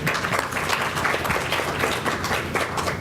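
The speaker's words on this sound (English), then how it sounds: "let's give our panelists a round of applause" Audience applause for a business panel, a steady dense wash of many hands clapping that holds at even loudness throughout, with no talk over it.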